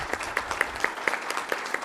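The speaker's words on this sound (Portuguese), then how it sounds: "Nossos aplausos." Scattered audience applause at a formal medal ceremony in Campinas: a short run of distinct, fairly soft, evenly spaced claps rather than a full ovation.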